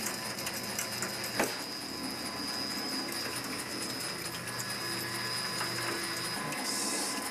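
A pipe threading machine makes a test cut on pipe, giving a steady, close mechanical whir with a constant high whine and one brief clack near the start.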